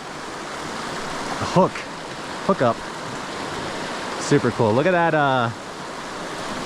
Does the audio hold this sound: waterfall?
yes